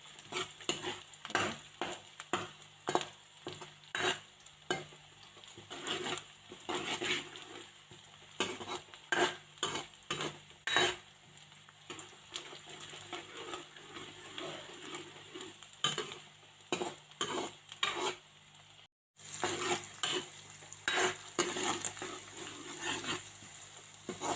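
Onions crackle and sizzle in hot ghee for a long stretch, with frequent clinks and scrapes of a utensil stirring in the pan.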